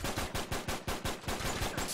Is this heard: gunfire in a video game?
yes